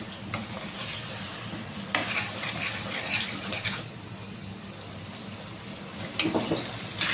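Masala with yogurt frying in a pan for egg Mughlai curry, a steady close sizzle broken by bursts of scraping stirring.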